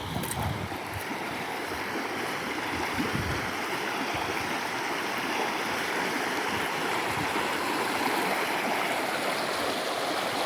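Rainwater pours over a farm check dam in a heavy rush that stays steady and dense, continuous throughout.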